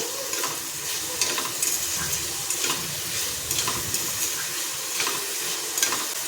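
Steady frying sizzle of tomatoes in a dal fry tempering, with soft crackles and occasional stirring clinks, close by, continuous throughout with no voices.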